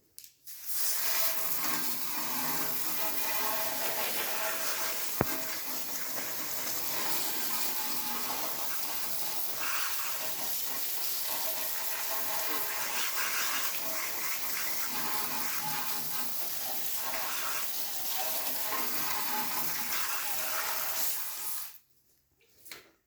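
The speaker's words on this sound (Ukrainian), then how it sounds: "потрібно змити його звичайною водою" Running plain tap water splashes and gushes steadily for about twenty seconds as a car-care product is rinsed off, close and continuous, then stops abruptly.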